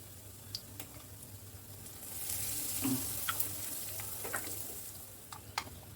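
Dry chillies, panch phoron with extra mustard and fennel, and a pinch of asafoetida sizzle in hot oil for a papaya malaikari, a soft steady crackle with occasional sharper pops and a slight swell midway.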